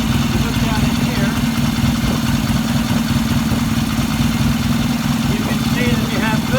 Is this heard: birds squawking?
no